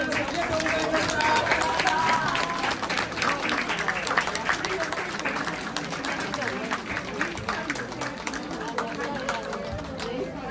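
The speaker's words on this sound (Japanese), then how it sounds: "もう一度盛大な拍手をお願いします" Sustained, dense audience applause after a Shiraume taiko drum performance at the Yushima Tenjin plum festival offering show, many hands clapping steadily for about ten seconds with crowd murmur mixed in.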